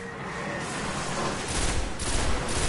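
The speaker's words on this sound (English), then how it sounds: "I guess we'll try this pulse rifle." Rapid pulse rifle fire in the Destiny video game crackles in dense repeated bursts, loud and continuous, with the volume swelling toward the end.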